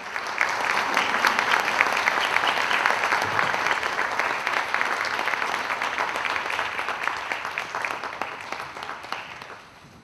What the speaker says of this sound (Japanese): どうぞ皆様拍手でお迎えください